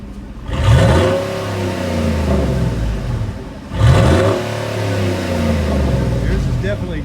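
Ford V8 Raptor with an aftermarket exhaust, revved twice in loud, deep bursts that settle into a rumbling idle, up close.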